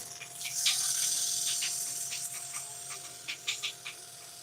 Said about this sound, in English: So that way I can do a little bit of light sanding on the bottom.